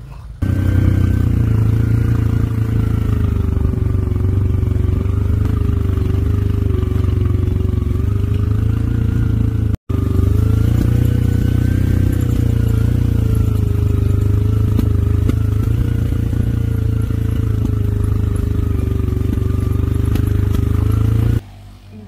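A Gojek motorbike taxi descends the downhill road from Mount Batur in Bali, its engine a loud, steady drone that runs for about twenty seconds with a momentary dropout midway and no talking.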